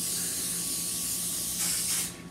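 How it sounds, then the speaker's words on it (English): A steady, close cooking spray hiss coats a 9x13 pan for about two seconds, with a brief louder burst near the end before it stops. "Grab your spray, cooking spray. Spray it on your 9x13 pan."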